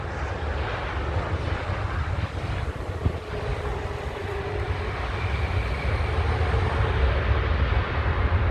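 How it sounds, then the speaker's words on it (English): A Boeing 787 Dreamliner at London Heathrow gives a steady, loud, broadband jet engine roar that holds throughout and swells slightly toward the end, with no voices. "No, sorry, it's a Dreamliner."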